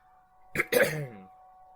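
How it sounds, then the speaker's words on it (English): A single short throat clearing, a rough burst followed by a brief voiced grunt, close to the microphone over a faint steady hum. "I had to clear my throat there"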